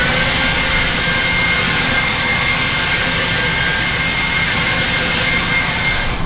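An EGO 56V battery leaf blower runs with a loud, constant jet-like whoosh and whine, close and unbroken for several seconds before cutting off.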